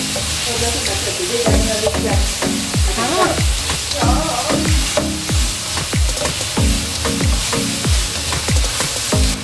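French beans stir-fried in a pan sizzle steadily while a utensil scrapes and tosses them in quick, repeated strokes, loud and close, with no talking.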